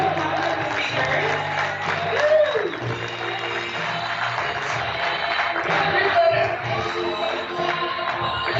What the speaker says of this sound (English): let's give a round of applause for each our two girl network big event speakers.